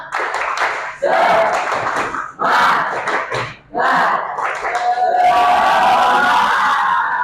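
A class of students shouts a rhythmic spirit chant in bursts, with clapping and cheering mixed into the loud, crowded classroom din.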